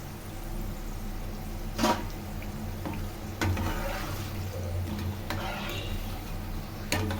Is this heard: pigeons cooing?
no